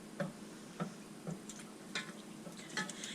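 A spoon stirring homemade mac and cheese sauce made with cheddar jack and jalapeno cheese in a pot on low heat, soft regular ticking scrapes against the pot, quiet and close, with faint sizzling beneath.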